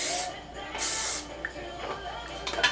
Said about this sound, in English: I'm gonna add a little bit of hairspray into her hair